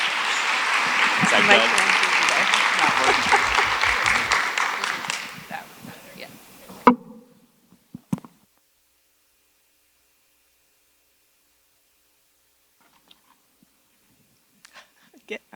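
Audience applause welcomes a presenter at an early math leadership institute, loud sustained clapping for about six seconds that fades out, followed by near silence and a few faint knocks, with a brief spoken question.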